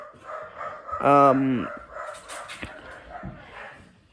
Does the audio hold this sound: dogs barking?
yes